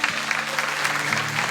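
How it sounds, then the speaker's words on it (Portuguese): A congregation applauds during a church service, brisk steady clapping from many hands with a low hum underneath and no talk. "Pode aplaudir o Senhor."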